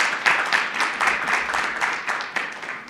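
An audience gives presenters a round of applause at an event on preserving the legacy of Rosenwald Schools, with moderate, somewhat uneven clapping that swells and thins over a few seconds.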